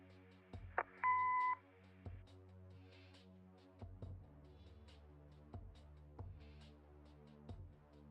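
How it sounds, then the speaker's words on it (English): A single clear answering-machine beep sounds in the video game Kathy Rain, followed by quiet ambient tones and faint clicks. "Leave a message after the beep."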